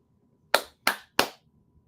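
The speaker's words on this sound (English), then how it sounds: "I'm going to need you to do your clappy claps" Three sharp, evenly spaced hand claps from a small group in a quiet room, crisp and close, each one decaying quickly, with near silence before and after.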